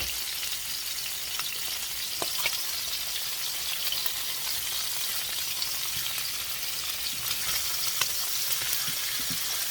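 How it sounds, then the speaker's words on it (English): Pork chops sear in a hot pan with a loud, even, continuous sizzle and faint crackles throughout, and no talking. "Now we want to get them seared on each side."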